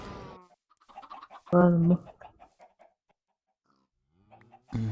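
Minecraft video game chickens cluck and squawk in short bursts, one loud squawk standing out, with a brief spoken remark and quieter gaps between.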